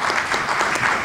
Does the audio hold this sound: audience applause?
yes